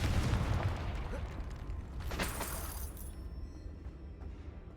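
A Confringo fire spell from Hogwarts Legacy bursts in a low, rumbling explosion, loud at first and then fading into a faint decaying tail.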